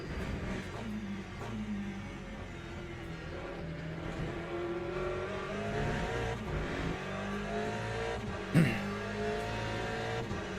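A Porsche race car engine drones steadily up close, its revs rising and falling through gear changes, with a brief sharp knock near the end.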